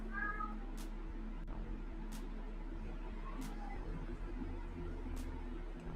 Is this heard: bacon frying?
no